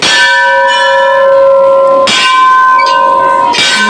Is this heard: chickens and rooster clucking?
no